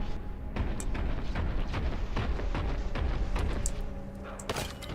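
Frag grenades explode in the retro shooter Warhammer 40K Boltgun as a dense run of booms and sharp blasts, one after another, close and loud, over constant battle noise.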